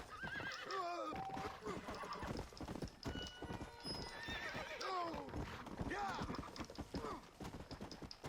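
A horse in the western video game Red Dead Redemption: Undead Nightmare neighs and whinnies over steady clip-clopping hooves, heard close and clear while someone talks over it throughout.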